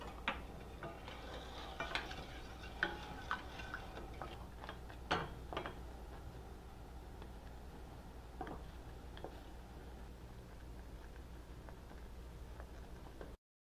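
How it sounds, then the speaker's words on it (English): A wooden spoon stirs lemon curd with butter in a flat-bottomed pan, giving soft, irregular scrapes and light taps against the pan over a quiet, steady background. "Just keep stirring it."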